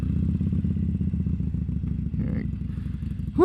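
A Harley-Davidson Sportster rumbles along the road with a close, steady low engine throb and small fluctuations, wind buffeting and a brief rise near the end.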